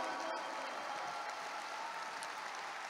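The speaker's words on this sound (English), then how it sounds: "Can we give our Vietnamese brothers a round of applause today?" Audience at a RIWAY International business seminar applauding steadily, a dense wash of clapping that holds at an even level for a few seconds with no talk over it.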